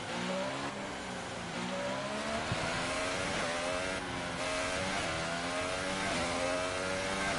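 A Williams Formula 1 car in the video game F1 2018 revs and shifts up with rising, buzzy engine tones through repeated gear changes, loud and continuous without any speech.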